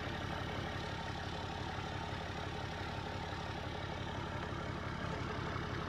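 A truck engine idles with a steady low rumble, constant and unbroken, with no talking over it, while hooked to a trailer through its 7-pin connector.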